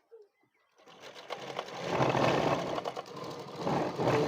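After a brief quiet pause, a sewing machine starts up and runs steadily, stitching a suit with a continuous buzzing whir close by.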